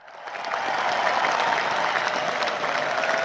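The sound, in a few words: applause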